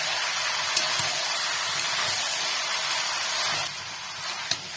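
Peas tipped into a pan of meat and potatoes set off a dense, steady sizzle like heavy rain, fairly loud and close, with a few small clinks and the hiss easing slightly near the end.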